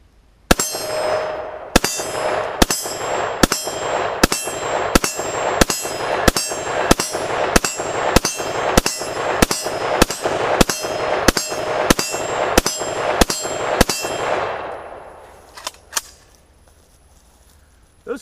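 An AK rifle fires a rapid 20-round magazine dump into a half-inch AR500 steel plate on a range, each shot a sharp ringing clang in a steady, evenly spaced string, loud and close, with no talking.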